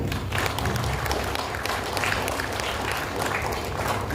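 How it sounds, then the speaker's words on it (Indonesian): Applause from an audience at a business signing ceremony hosted by a provincial government, a dense, steady clapping that fills the whole moment without any talk over it. "Tepuk tangan."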